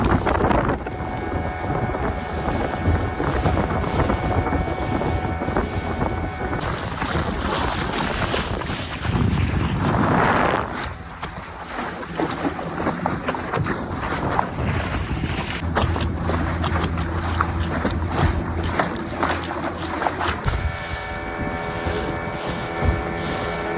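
A fishing boat heading out to deep sea after mackerel drones steadily on its engine for the whole stretch, with wind buffeting the microphone and a brief louder gust of rushing water midway.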